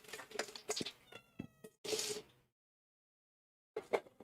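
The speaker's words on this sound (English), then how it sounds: "The cat has just come down the stairs in front of me and jumped up." A house cat meows close by several times in quick succession, short vocal calls followed by a silent pause and then one more meow, heard in a home kitchen.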